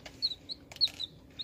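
Small chickens, recently ordered as young hens, make soft high chirps and peeps, several brief calls scattered over a quiet background with no talking.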